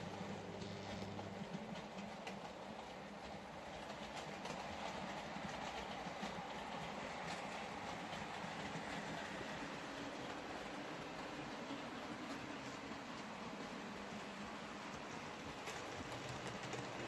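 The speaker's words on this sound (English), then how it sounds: "the Golden Arrow boat train" The Golden Arrow boat train runs along the rails as a steady, fairly faint broadband rumble that rolls on without a break, with no voices over it.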